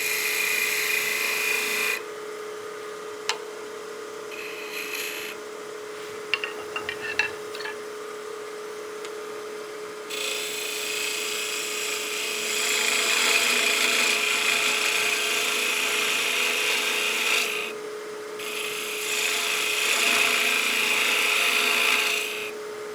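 Wood turning on a lathe while undercutting the mating surface of a bat house ornament: a steady motor hum broken by stretches of rasping, scraping tool contact, a few sharp ticks, then louder sustained cutting near the end.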